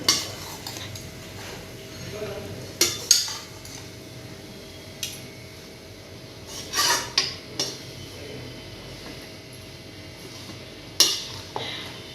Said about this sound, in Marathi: सतत हलवत हलवत आपल्याला खोबरं व्यवस्थित भाजून घ्यायचं